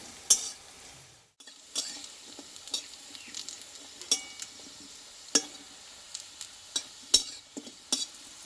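Oil sizzles softly in a pan as pumpkin leaf fritters fry in a little oil, while a utensil clinks and scrapes against it every second or so, with no talking.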